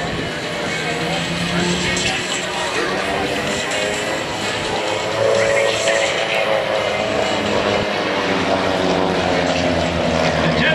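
Propeller aircraft of the Redline Air Shows team fly formation at the 2014 Cleveland National Air Show, a continuous loud engine drone that swells slightly midway, with a commentator talking over it throughout.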